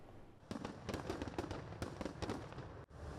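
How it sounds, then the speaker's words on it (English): Fireworks display over Giza for the opening of the Grand Egyptian Museum, a dense run of crackling bursts and sharp pops in quick succession, loud and sustained throughout. "A dazzling display of fireworks and drones lit up the skies over Giza"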